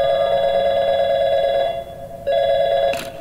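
A telephone rings in the video game Portal 2, a steady electronic ring tone that fills the clip, briefly dropping out and resuming, with a short bright click near the end.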